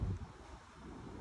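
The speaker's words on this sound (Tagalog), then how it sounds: "Mahangin." Wind gusts at a beach shore in Aurora, buffeting the microphone with a low rumbling roar that swells at the start and then settles into a softer steady rush.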